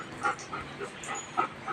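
A dog gives several short whimpers and soft yips close by, in brief bursts over quiet background.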